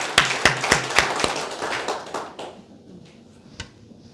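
A church congregation claps in unison, several sharp, loud, evenly spaced claps that then fade into a softer scatter of room noise.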